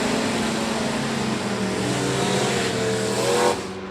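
Stock cars at a race start roar together in a dense, loud, continuous engine drone that holds steady before cutting off abruptly near the end, with no talk over it.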